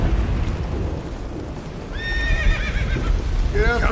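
Roach, a horse in The Witcher 3, snorts and whinnies over rapid clip-clop hoofbeats, with a rider's voice speaking beneath; two distinct neighs rise in the second half, the last one trailing off at the end.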